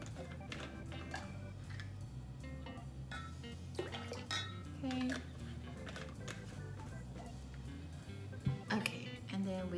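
Kombucha is poured into a glass with faint, soft trickling and a few small clinks over a quiet room, with a voice murmuring in the background.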